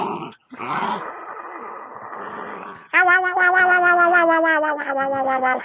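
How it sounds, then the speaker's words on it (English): A dog aboard a narrowboat growls playfully in a rough, rumbling burst, breaks off briefly, then lets out a long whining, yipping vocal with strong tonal harmonics, loud and close with no talk over it. "Ah, you fierce dog, you."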